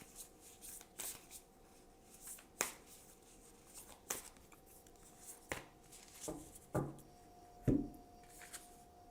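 Tarot cards are shuffled by hand in a quiet room, a series of soft, crisp riffles and slaps at irregular intervals, close and faint, growing busier toward the end.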